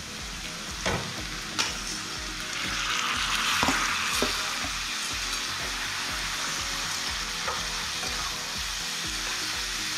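Banana stem (thor) fries in a pan for a Bengali vegetarian chechki, a loud, steady hiss broken by rapid rhythmic spatula scrapes and a few sharp clinks, close up, with no talk.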